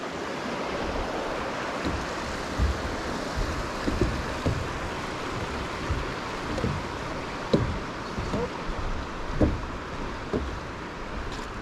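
Bright Angel Creek at the bottom of the Grand Canyon rushes steadily, a continuous broadband wash of flowing water with faint wind noise, close and fairly loud, with no talking.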